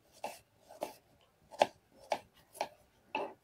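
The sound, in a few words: knife finely chopping onion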